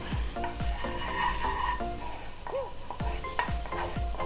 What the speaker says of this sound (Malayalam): ഓഫാക്കിയിട്ടൊന്ന് ഇളക്കിക്കൊണ്ടിരിക്കണം